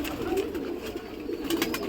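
A racing pigeon coos close up, a low, soft two-part coo repeating twice over a steady ambient murmur.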